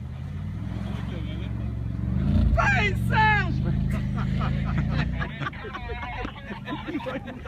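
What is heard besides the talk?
engine of the RS car accelerating on track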